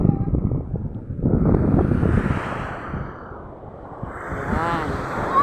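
Ocean waves and wind at a beach, with surf rolling and washing in broad surges under steady wind noise, moderately loud with no talk.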